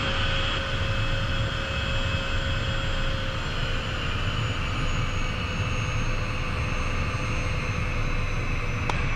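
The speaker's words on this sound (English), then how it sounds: "Runway 25 clear for takeoff, Premier 390 Golf Mike." Inside a Premier 390 private jet on its takeoff roll, the engines roar loud and steady with a constant high whine throughout.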